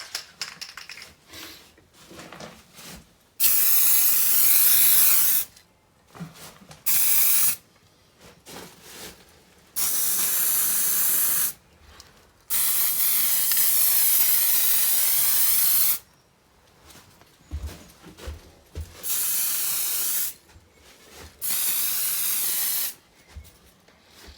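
Paint is sprayed in another coat onto a water-stained ceiling, heard as a loud, close, airy hiss in about six sustained bursts with short quiet gaps between them.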